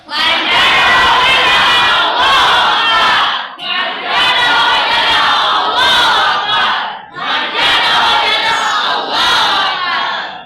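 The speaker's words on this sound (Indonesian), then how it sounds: "teriakan 3 kali sampai suaranya kedengaran ke Jember, ke Jawa Timur" A classroom of students shouts loudly in unison three times, each burst of massed voices separated by a brief pause, filling the room with chant-like yelling.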